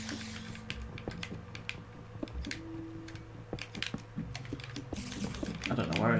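Rapid plastic clacking of buttons on a game controller during a Minecraft session, a steady patter of clicks throughout with a louder rustle at the end.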